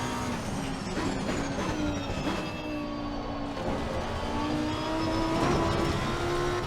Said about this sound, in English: The car's sounding good around here at Imola.